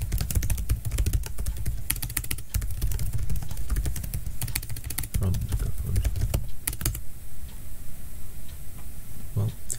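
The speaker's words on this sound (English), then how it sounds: "we're going to be doing some typing ASMR" Steady, close typing on a computer keyboard, a dense run of crisp clicks and clacks with a few louder key strikes.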